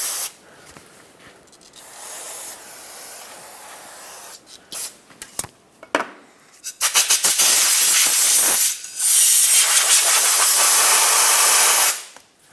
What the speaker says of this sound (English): Clean this up with some brake parts cleaner.